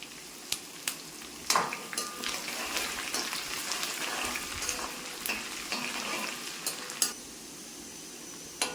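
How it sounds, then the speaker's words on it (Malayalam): Ginger crisping in hot sesame oil for a cooker lemon pickle: a steady close sizzle and fry with sharp clicks of a spoon stirring against the pan, no talking. "അതുകൊണ്ട് നമ്മൾ ഇഞ്ചി നന്നായിട്ട് ക്രിസ്പി ആയിട്ട് മൂപ്പിക്കണം"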